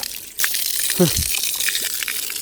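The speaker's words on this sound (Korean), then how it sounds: "이렇게 하면 샤워가 됩니다" Water pours and splashes from a homemade waterfall shower rigged on a mountainside stream, with stones used to adjust the flow, a steady wash of falling water under a voice.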